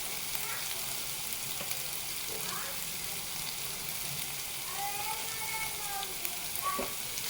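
Beans, potato and grated carrot sizzle steadily in hot oil for sago uppittu, a continuous close frying hiss with a few faint scrapes of stirring and no talk.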